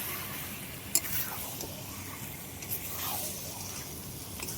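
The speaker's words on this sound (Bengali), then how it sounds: "মাংস কিন্তু দিয়ে দিয়েছি, আমি কষানো শুরু করে দিয়েছি" Mutton sautéing with fried potatoes in a pan gives a faint, steady sizzle with a few soft stirring clicks, low and even throughout.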